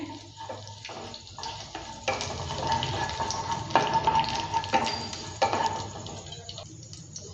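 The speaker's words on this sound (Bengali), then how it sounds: "তেলের মধ্যে দিয়ে দিচ্ছি একটা তেজপাতা হাফ চামচ দিয়ে দিচ্ছি গোটা জিরে দেওয়ার পর নেড়ে চেড়ে দিচ্ছে" Whole cumin seeds and a bay leaf sizzle in hot oil in a pan, a steady close crackle with intermittent scraping and clicking as a spoon stirs them.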